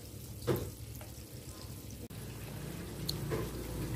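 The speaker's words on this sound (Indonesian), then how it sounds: "kita goreng sampai kuning kecoklatan ya bun" Pumpkin slices frying in oil until golden brown give a steady, moderate crackle and bubbling sizzle, with a few stirring knocks and a brief cut midway, no talking.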